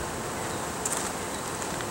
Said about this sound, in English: These bees are very gentle.